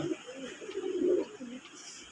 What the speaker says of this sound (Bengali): অসাধারণ অসাধারণ এক জোড়া লাল কবুতর